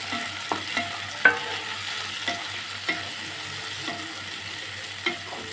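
Tomatoes and eggplant frying in a pan for a curry, a soft continuous sizzle broken by several spaced scraping strokes of a spoon stirring the vegetables.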